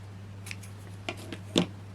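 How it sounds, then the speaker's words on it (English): Sharp scissors trim card or paper in a craft project: a few quiet, crisp snips sound close up over a low steady hum. "So we can trim it with some nice sharp scissors,"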